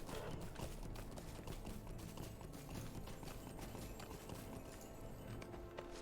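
Horse hooves galloping in the game Lord of the Rings Online, a rapid, even clip-clop of hoofbeats running continuously at close range over a dense background of game ambience, with no talking.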